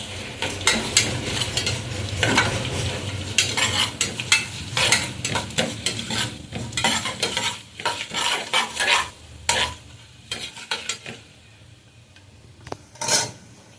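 Tomato rice cooking in a pan is stirred vigorously: rapid, irregular scraping and clattering strokes of a spoon over a steady sizzle, close and loud, thinning into sparser strokes toward the end.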